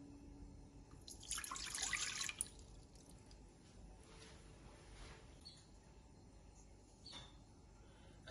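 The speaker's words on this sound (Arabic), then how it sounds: "بحط كوب مي فاتر" Lukewarm water poured from a cup into a bowl for fatayer dough, a brief bright splashing pour lasting about a second, followed by faint drips and quiet room noise.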